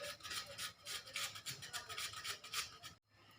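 An onion is rubbed back and forth over a grater in quick, even rasping strokes, close but faint, stopping abruptly near the end.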